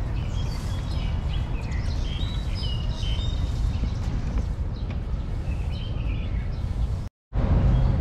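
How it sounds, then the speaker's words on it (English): Many birds chirp and sing in overlapping calls above a steady low rumble of outdoor noise in Tsing Yi, Hong Kong, mid-morning, with a brief dropout near the end. "you can hear lots of many birds singing while you're walking around"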